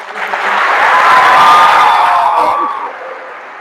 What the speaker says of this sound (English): One more time, can you have a round of applause?